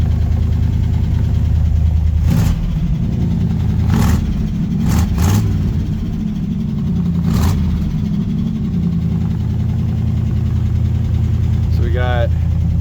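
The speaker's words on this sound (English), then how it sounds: "I'm gonna give it a little bit of gas." A Chevy C10 pickup's engine idles smoothly, then gets a few quick bursts of gas, each rev rising briefly over a steady low rumble heard up close, with a voice speaking over it.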